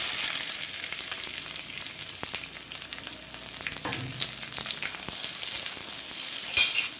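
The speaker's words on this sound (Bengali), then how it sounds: "কেটে রাখা পেঁয়াজগুলো দিয়ে দিচ্ছি।" Chopped onions frying in hot oil with whole cumin, cloves, cardamom and garam masala for mutton pulao give a steady, soft sizzle, with occasional clinks and stirring scrapes of a utensil in the pan.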